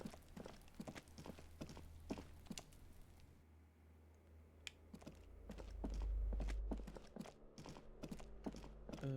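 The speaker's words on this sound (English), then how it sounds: "You hear someone walking around inside" In the game Disco Elysium, irregular footsteps of someone walking inside an apartment thud and clack nearby, with a low rumble swelling midway and faint mechanical ticking in the background.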